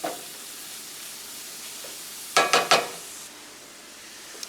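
Ground beef mixture sautéing in a single pan for a hamburger mac casserole, a soft steady sizzle broken near the middle by three quick scraping stirs, fairly close and moderately loud with no talking.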